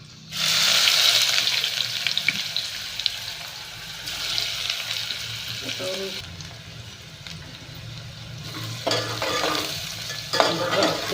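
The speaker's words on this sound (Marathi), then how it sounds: "आता मी ही कांदा भाजून घेते त्याच्यामध्ये" Onion frying in oil with whole spices in a pan, a continuous close sizzle with stirring scrapes and occasional louder bursts, running over about eleven seconds with no talk.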